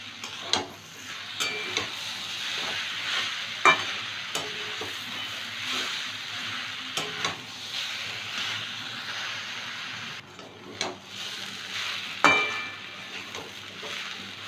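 Papaya frying in a pan with a spoon of sugar and slit green chillies, a steady soft sizzle with light stirring scrapes and occasional clicks against the pan throughout.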